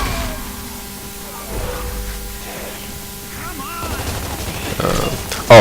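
Gunfire in Gears of War 3 beta King of the Hill multiplayer: scattered shots and bursts mixed with steady game noise, ending in a sharp loud burst.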